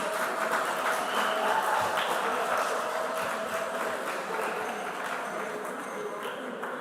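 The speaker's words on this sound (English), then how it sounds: "a thunderous round of applause for your support" Applause from supporters at a school quiz quarter-final, a steady dense wash of clapping held at an even level throughout, fairly loud and continuous with no voices standing out.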